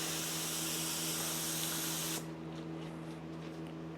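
A paint spray gun is sprayed out to clear a clogged, vapor-locked passage, giving a steady loud hiss for about two seconds that then drops to a softer airy hiss over a low electrical hum.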